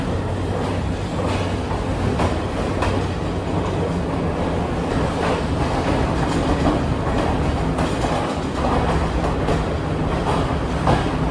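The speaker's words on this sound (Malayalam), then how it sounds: "നാനോയ സ്റ്റേഷൻ ഇതാ ട്രെയിൻ എടുത്തിരിക്കുകയാണ്" Locomotive-hauled train pulling out of Nanu Oya station in Sri Lanka, a continuous heavy rolling rumble heard from on board with faint repeated wheel clacks and no voices.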